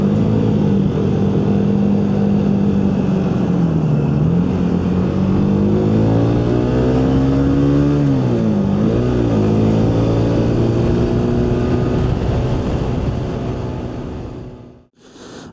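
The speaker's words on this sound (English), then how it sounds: "can you even hear that bike now?" A motorcycle engine, loud and close, holds a steady low drone and then rises and dips through several revs, dying away abruptly at the very end.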